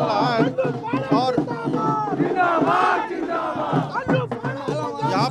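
A loud crowd cheers and chants at a garlanding welcome for Congress candidate Dr. Amrendra Pandey in Khalilabad, with overlapping shouting voices and rhythmic calls that rise and fall continuously.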